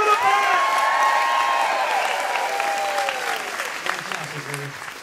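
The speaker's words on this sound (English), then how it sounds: "please give a big round of applause to this fantastic band on the stand" Audience applauds a band after a school concert performance, sustained clapping and some cheering mixed with a sustained musical chord fading out, moderately loud and gradually tapering off.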